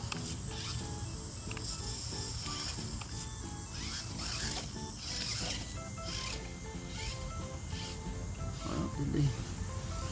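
A 1/18 scale 4x4 dual-motor RC rock crawler truck grinds over rocks outdoors, its motors whining with ratcheting gear noise and clatter, while a person talks intermittently.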